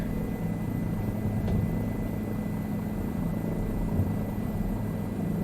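A private helicopter in Microsoft Flight Simulator, set in safari scenery among houses, drones with a steady low rotor and engine hum that holds evenly throughout.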